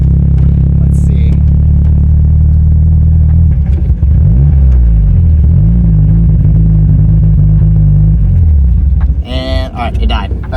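A Mazda Miata engine holds a loud, steady idle with a low rumble and a brief dip in revs, then stalls near the end, leaving a short hiss and quiet.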